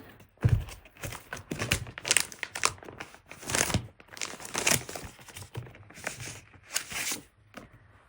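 A hot cocoa sticker peeled from a sticker sheet, giving close crinkly, papery crackles and short tearing rustles in irregular bursts, with no talking.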